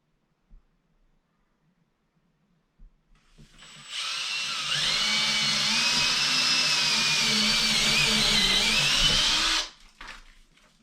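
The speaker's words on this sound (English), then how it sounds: "I prefer to just find that point and drill my hole." A power drill bores a hole through drywall while a toilet paper holder is being installed, a steady loud whine lasting about six seconds with a sharp start and stop, heard alone.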